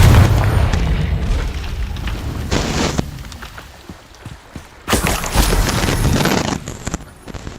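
A Confringo fire spell explodes in Hogwarts Legacy with a loud booming burst at the start, a quieter rumbling stretch, then a second heavy blast with crackling debris that fades out.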